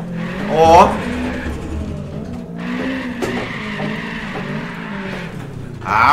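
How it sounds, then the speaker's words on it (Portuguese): A Trueno E86 drifts uphill in the racing video game Apex Point, its engine revving steadily with tire squeal rising and falling while someone talks over it. "Será que eu consigo subir isso aqui de drift?"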